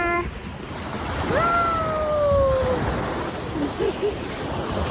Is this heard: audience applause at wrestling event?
no